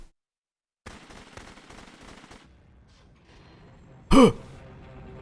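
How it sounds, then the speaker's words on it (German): A gun fires in a video game as a single sharp, loud burst near the end, following a stretch of quieter game ambience. "Remember, you can click to fire the gun."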